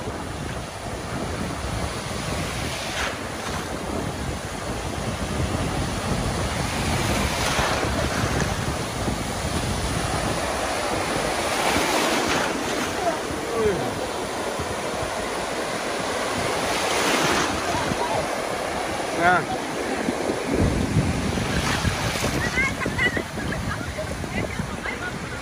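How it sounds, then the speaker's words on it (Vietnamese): Large waves break steadily on the beach at Cồn Đen in Thái Bình, a continuous loud roar of surf with repeated crashing surges and gusting wind noise on the microphone. "ra đây biển càng ra xa càng sóng các bác nhá."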